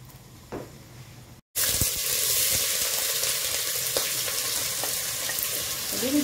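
Oil hits a hot pan for a tomato sauce with a sudden loud sizzle after a brief quiet moment, then crackles steadily and close, with faint clinks underneath.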